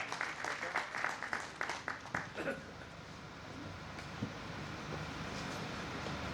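Audience at an All Pakistan Allama Iqbal Awards ceremony in Sialkot claps to welcome a guest onto the stage, a short burst of clapping that fades after a couple of seconds into a murmuring room.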